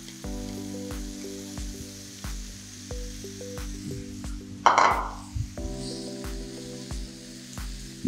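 Ground turkey and cabbage sizzle in a hot pan, a soft steady crackle that runs under background music, with a brief louder burst of hissing midway.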